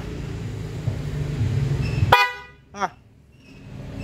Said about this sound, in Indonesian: Coba, nih klakson kita coba dulu ya.